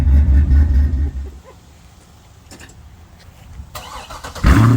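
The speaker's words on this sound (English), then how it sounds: "That sounds exactly how a Corvette should sound" A Corvette engine rumbles, drops to a quiet idle-like lull, then starts up again with a sudden loud roar close by.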